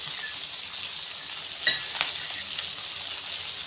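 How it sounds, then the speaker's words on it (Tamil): Ivy gourd (kovakkai) frying in oil, a constant bright hiss of sizzling with a couple of brief louder crackles midway, close and alone with no voices. "கோவக்காய் வந்து அது வரைக்கும் நல்லா ஃப்ரை ஆகிட்டே இருக்கட்டும் எண்ணெயில்"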